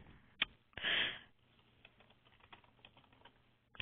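Login details typed on a computer keyboard, a steady run of light, quick key taps close by after one brief louder rustle, with no talking.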